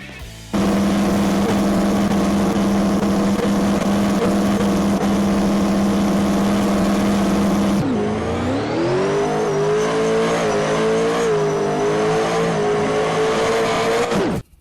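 A twin turbo Pro Modified drag car in a racing game makes a quarter mile pass, its engine droning loud and steady before a sharp gear change leads into a rising, straining roar that cuts off abruptly at the end.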